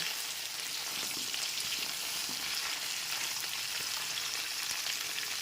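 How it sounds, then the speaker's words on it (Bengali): Pointed gourd (potol) pieces frying in oil over a medium gas flame, a steady, close sizzle with faint crackles and a light stirring scrape, no talk. "গ্যাসের ফ্লেমটা মিডিয়ামে রেখে পটলের টুকরোগুলোকে ভেজে নেব"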